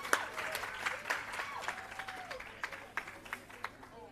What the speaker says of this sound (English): Keep the applause going for Donna Anderson, Hanover.